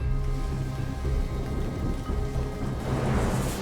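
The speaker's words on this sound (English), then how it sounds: "A warm front from the tropics has brought torrential rains to the valley." Torrential rain from a tropical warm front pours steadily over a flooded valley highway, a loud, dense roar broken by deep rumbles of thunder, with no voices.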